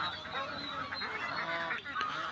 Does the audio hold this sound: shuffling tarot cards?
no